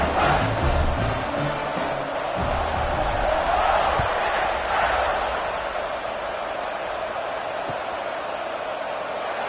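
A stadium crowd at a college football game with Auburn kicking off roars steadily and loudly throughout, a dense continuous wash of cheering and voices with no clear breaks.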